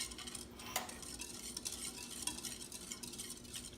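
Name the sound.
stirring sauce ingredients with minced garlic in a pan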